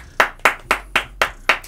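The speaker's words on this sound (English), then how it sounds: "That deserves a round of applause" Six sharp, evenly spaced hand claps from guests in a podcast studio, close and loud, with nothing else between them.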